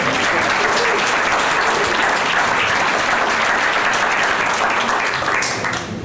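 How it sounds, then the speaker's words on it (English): Loud, sustained applause from a museum audience at the Dubuque Museum of Art, gathered for an Oscar Wilde performance; the clapping is thick and continuous, then thins slightly at the very end. "That's worth a round of applause."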